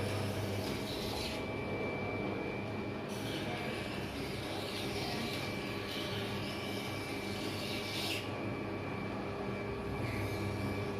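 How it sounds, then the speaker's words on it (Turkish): Homemade electric knife-sharpening machine with a whetstone running: a continuous steady motor whir with broadband grinding noise, close and unbroken throughout, shifting slightly in texture partway through. "birazcık daha yavaşlattık ve elektrik gücüyle bunu elde ettik"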